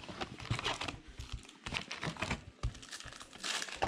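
Crinkly foil wrappers of 2020 Donruss baseball hobby-box card packs being torn and ripped open up close, irregular crackling bursts with short pauses and no speech.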